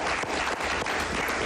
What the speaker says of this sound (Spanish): Permíteme que te aplauda por eso.